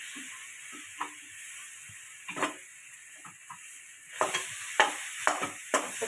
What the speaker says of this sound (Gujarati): હવે તે હલાવી લઈશું।